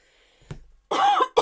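A woman coughs close up, a short throaty burst followed by a louder, longer cough and the start of another, in an otherwise quiet indoor setting.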